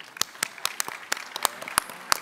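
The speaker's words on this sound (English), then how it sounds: "let's give them another round of applause" Sparse applause at a 40 Under 40 award luncheon: a handful of separate, sharp hand claps at uneven intervals, fairly close, over a quiet room with no speech.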